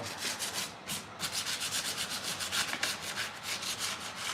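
Sheets of 100 grit sandpaper rub over salt-washed wood in soft, close strokes, with an even back-and-forth rhythm of about a dozen passes and no voices.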